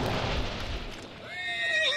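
Horses whinny in the video game Hunt: Showdown 1896, a loud, close neigh with wavering, falling pitch at the end after a noisy rumble.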